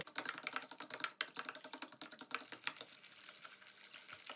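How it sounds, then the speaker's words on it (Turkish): Flour and lemon juice are whisked in water in a bowl, a quiet, rapid, rhythmic clatter of the whisk against the sides. The ticking is steady and continues for the whole stretch, with no voices. "Unla limon suyunu çırpacağız."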